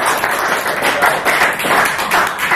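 A church congregation claps together at a Christmas service in a steady, fairly loud patter of many hands that carries through with no talking.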